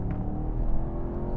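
A BMW M550i twin-turbo V8 kicks down through its 8-speed automatic gearbox from about 50, giving a steady, loud, close engine roar that holds strong throughout the brief acceleration.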